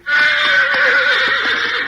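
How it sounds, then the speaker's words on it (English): A horse whinnies loudly and close, one sustained high neigh with wavering pitch filling nearly two seconds, heard alone in a radio western drama. "A masked hombre and the Indian heard that whinny."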